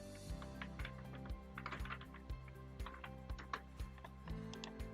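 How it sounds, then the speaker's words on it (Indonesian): Quick, light computer keyboard clicks tap out in short bursts, typing text into Excel close by in an otherwise quiet room with a faint hum. "Misalnya kita mengetik di sini"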